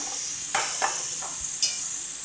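Ground spices (turmeric, dried chilli, cumin and coriander) fry in oil in a pan for banana flower kofta curry, giving a steady soft sizzle with a few short stirring scrapes on top.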